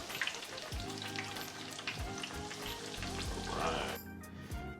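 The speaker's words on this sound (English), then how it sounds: "I'm gonna go ahead and put these in here, cook these" Catfish pieces deep frying in hot grease, a dense bubbling crackle like rain on a surface that continues throughout, with soft music underneath.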